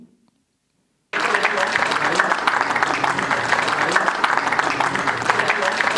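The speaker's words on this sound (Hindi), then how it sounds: "तालियां हो जाए सभी की" After a second of near silence, an audience at a live astrology meetup breaks into loud, sustained applause that keeps going evenly to the end.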